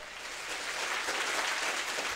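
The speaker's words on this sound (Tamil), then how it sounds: "அன்போடு அழைக்கிறேன் உங்களுடைய கைத்தட்டலோடு" Studio audience at a Tamil TV comedy show bursts into steady, dense applause, a continuous wash of clapping that swells slightly and holds close and loud throughout.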